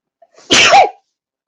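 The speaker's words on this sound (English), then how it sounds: "I had to sneeze." A single loud sneeze, close by, with a short intake of breath before the sharp burst, then silence.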